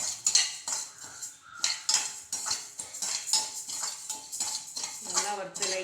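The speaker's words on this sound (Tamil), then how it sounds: "இதே நல்லா பொரி அரிசி மாரி நல்லா வறுத்துக்கலாம்." Rice being stirred and roasted dry in a pan, a steady run of close metallic scraping and clinking strokes from a spoon against the pan, with no talk.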